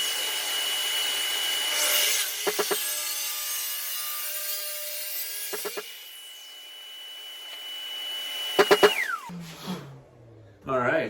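WEN CT1272 track saw cutting through wood along a Powertec track: a steady high whine of the motor with the blade rasping through the board, a few sharp clicks, then the motor winding down, close and fairly loud, with no speech.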